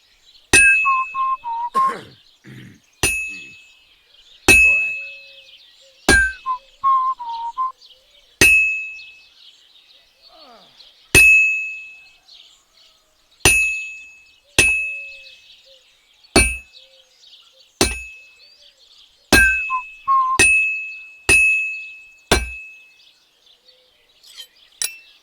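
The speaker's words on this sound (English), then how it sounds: "I have to hammer it more evenly." A hammer strikes hot metal on an anvil at a blacksmith's forge in Kingdom Come Deliverance 2, about twenty sharp ringing clangs spread unevenly across the stretch, each one decaying quickly into near silence.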